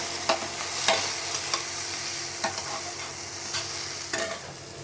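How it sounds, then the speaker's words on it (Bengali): Onion stalks and eggplant fry in a pan with a steady sizzle, broken by sharp spatula scrapes and clinks every second or so, close and alone with no voices. "এখানে দেখো পেঁয়াজ আর বেগুন দিয়ে হচ্ছে ভাজা"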